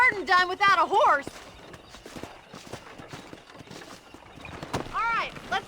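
Hooves clip-clop in a steady walking rhythm through a Red Dead Redemption ranch scene, close and moderately loud, with a voice speaking over them in bursts.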